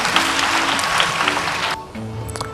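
Applause from a spelling-bee audience at a national final in Benin, a dense burst of clapping that swells loud for nearly two seconds, then drops off into thinner, scattered claps.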